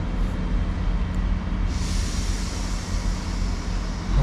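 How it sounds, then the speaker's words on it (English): A British Rail Class 158 diesel train passes nearby on its way to Norwich, a continuous loud rumble and rattle of wheels with a brighter hiss rising partway through. "Ah, another train there, look"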